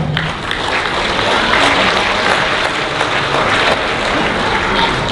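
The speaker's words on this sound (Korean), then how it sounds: "여러분이 왜 박수 치시는지 알겠습니다" Audience applause at a conservative political rally, a loud, sustained roar of many clapping hands from a large crowd, with some voices mixed in.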